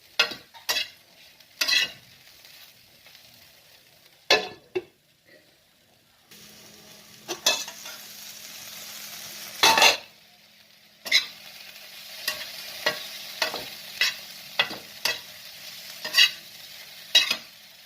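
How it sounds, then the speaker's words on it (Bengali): Spiced okra (bhindi) sizzles gently in a pan while a spatula scrapes and stirs it in repeated sharp strokes, with quiet pauses between bursts of stirring. "তারপরে এটাকে নাড়াচাড়া করে আবার একটু ঢাকা দেবো"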